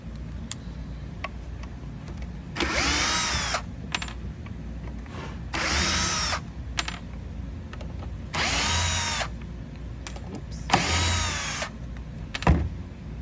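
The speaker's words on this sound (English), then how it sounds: "grab a drill or a screwdriver, and you're going to want to remove the 4 screws" A power drill whirs in four separate bursts of about a second each, removing screws from a wine serving tray base, with quiet pauses and small clicks and handling noises between them.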